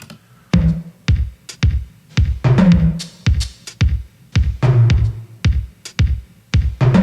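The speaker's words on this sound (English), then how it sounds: "And then I layered in a bunch of other drum sounds, including toms, hi-hats, shakers, etc." Layered drum groove with kicks, toms, hi-hats and shakers in a pop dance track for a drag competition show, a steady run of punchy hits with bright ticking on top, loud and alone with no voices.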